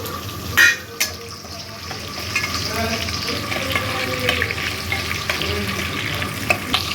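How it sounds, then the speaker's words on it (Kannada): Onions sizzle in hot oil while being stirred in a pan with capsicum for a mushroom kadai curry, a steady close frying hiss broken by scraping stirs and a couple of sharp utensil knocks. "ಇವಾಗ ಆನಿಯನ್ ಕೂಡ ಹಾಕೊಳ್ಳೋಣ."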